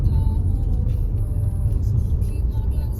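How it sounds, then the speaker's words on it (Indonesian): Cars and trucks travel a narrow village road in Indonesia, heard from inside a moving Mitsubishi Eclipse Cross as a steady, loud low rumble of passing traffic and engine noise with no talk. "Banyak truk besar lewat jalan kecil kayak gini"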